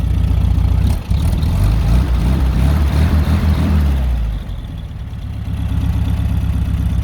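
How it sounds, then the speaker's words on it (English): A 1985 Mexican Volkswagen Beetle with what appears to be its original air-cooled engine, up close and loud: a rough, throbbing idle that swells as the engine is revved, then settles back to a lower idle. "Let's see if I can rev it again."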